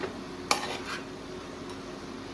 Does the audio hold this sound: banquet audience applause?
no